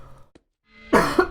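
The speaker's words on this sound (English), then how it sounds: "I apologize for the coughing" A single person coughs at close range, with a sharp, loud burst followed by a second short cough, coming after a faint earlier sound and a brief silence.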